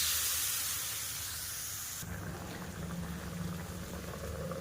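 Water splashes into mango being cooked down over a high flame, setting off a sudden loud hiss that settles into steady bubbling and sizzling, with no voices.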